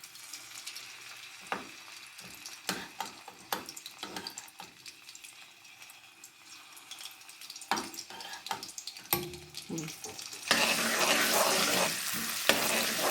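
Green chilies and garlic sizzle in hot oil in a home kitchen while aloo methi sabzi is being made, with close, crackly frying broken by clatters of stirring and a louder, steadier sizzle near the end.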